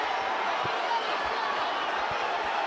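A crowd at a boxing match between Tahmir Smalls and Abel Ramos roars in a continuous broad wash of noise, with a commentator talking over it and a few dull thumps underneath.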